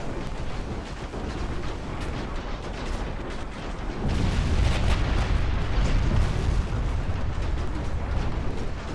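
Heavy naval gunfire in the warship game Ultimate Admiral: Dreadnoughts: a sustained, dense rumble of big-gun blasts that swells louder about halfway through and rolls on continuously, with no talk.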